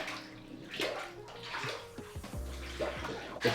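Denim trucker jacket pushed down into coffee-dyed water in a bathtub, giving soft close sloshing and gurgling splashes that swell and fade over a few seconds, with no talking.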